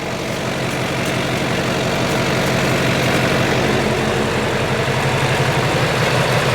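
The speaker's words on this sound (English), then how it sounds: "Engine still sounds good though." A heavy Duramax diesel truck engine idles steadily up close, a constant low rumble with no voices.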